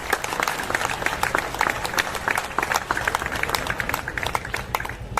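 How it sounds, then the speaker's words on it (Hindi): Audience applauding at a 2023 Indian railway division awards ceremony in Bhusawal, brisk, continuous clapping from a standing crowd in a hall, close and lively, with no speech over it. "मैं चाहती हूं कि सब लोग जोरदार ताली इन लोग के लिए बजाएं।"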